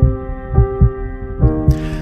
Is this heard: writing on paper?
no